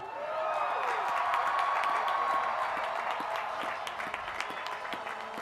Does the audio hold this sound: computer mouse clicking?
no